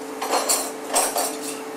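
A cooking pot, a cocotte, is handled in a chef's kitchen, giving a few light metallic clanks and knocks at a moderate distance, with no talk.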